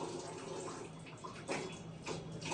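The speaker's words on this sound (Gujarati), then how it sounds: "નળ બંધ કર પાણી ખોટે ખોટું ઢોળવાનું નથી થતું" Water runs steadily from a household tap into a sink, a soft continuous splash close by with no talk over it.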